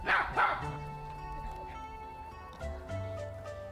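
A family dog gives two quick barks close by at the start, then softer yips and whimpers trail off over a faint tonal background.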